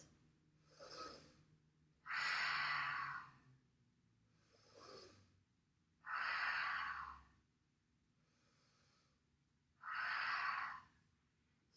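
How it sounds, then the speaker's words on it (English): Slow, deep belly breathing during a vinyasa yoga flow, lying forehead-down on a mat: three soft inhales and three long, loud exhales in a steady rhythm, close by, with no talking. "melt the forehead down and take 3 belly breaths."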